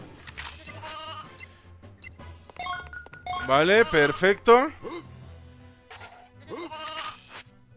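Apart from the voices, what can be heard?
sheep bleating in the video game Toy Story 2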